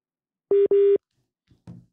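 Two short electronic telephone dialing tones in quick succession while a call is placed, followed by a brief faint click and a short burst of sound.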